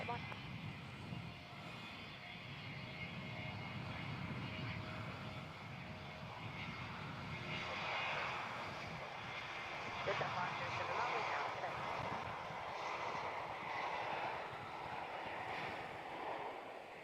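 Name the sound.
Qantas Boeing 717 airliner engines at Melbourne Airport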